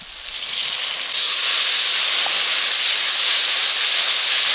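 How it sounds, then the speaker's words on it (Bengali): A spice paste of turmeric, chilli powder and ground cumin, splashed with a little water, sautés in a hot pan with a loud, steady hiss and sizzle that swells after a second and holds, close and continuous. "সামান্য একটু মশলার জল দিয়ে মশলাটা ভালো করে কষে নিই।"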